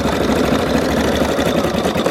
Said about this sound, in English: that's the design I'm stitching out currently